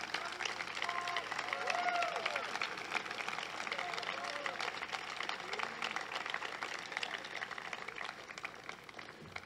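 Audience applause at a school commencement ceremony for the class of 2019, a fairly faint, continuous wash of many hands clapping in a large space, with some voices mixed in.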